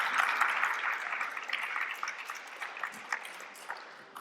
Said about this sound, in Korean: 박수로 부탁드리겠습니다.